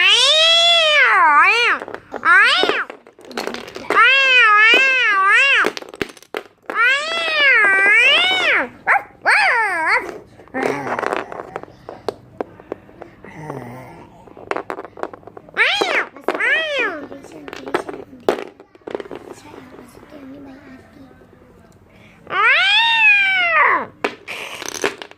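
A cat and a dog fight at close range, with the cat letting out long, rising and falling yowls and caterwauls mixed with sharp barks and growls. The fight comes in loud bursts, broken by brief pauses.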